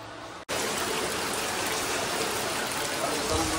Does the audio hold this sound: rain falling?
yes